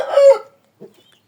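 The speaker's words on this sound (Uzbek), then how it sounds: "Mana shu tovuq Yaponiyadan keldi-da." A young Japanese chicken gives one short, loud crowing call up close, followed a moment later by a faint low cluck, then silence.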